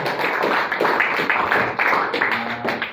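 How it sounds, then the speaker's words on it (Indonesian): A classroom of students claps for two classmates, loud close rhythmic clapping in uneven bursts over a few seconds. "Tepuk tangan untuk kedua teman kita"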